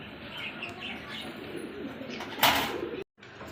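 Fancy pigeons kept for sale cooing softly at close range, with a short burst of wing flapping near the end before a sudden cut.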